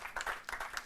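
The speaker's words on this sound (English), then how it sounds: "A round of applause for our contestants." Applause from an audience at a university law quiz contest, a short burst of many hands clapping fairly close and steady, with a brief dip midway.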